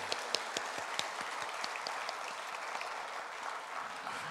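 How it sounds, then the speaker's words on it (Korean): A church congregation at a revival service applauds, with a few distinct claps at the start swelling into a steady, fairly quiet wash of many hands that stays even to the end. "우리 감사의 박수 한번 하겠습니다."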